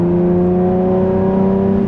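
A Ferrari Testarossa engine revs loud and close under a pressed accelerator, a steady strong harmonic drone holding for two seconds without any talk.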